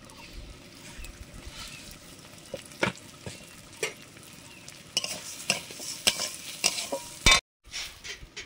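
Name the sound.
frying and stirring mung dal in a pan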